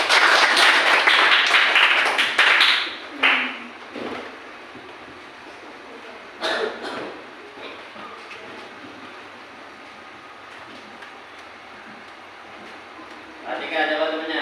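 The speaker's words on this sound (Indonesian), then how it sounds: "Tepuk tangan untuk kelompok 1 dulu" Applause from a class for a student group during a vocational school maths lesson: a dense burst of clapping for the first few seconds, then quieter room noise with scattered brief sounds and a renewed rustle near the end.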